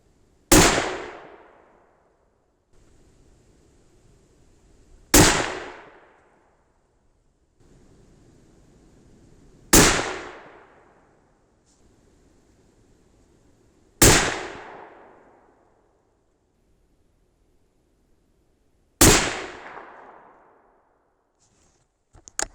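Five sharp 6.5 Creedmoor rifle shots firing Federal 140 grain Non-Typical Whitetail ammunition from a T/C Compass, evenly spaced about five seconds apart, each a loud crack with a fading tail and quiet between.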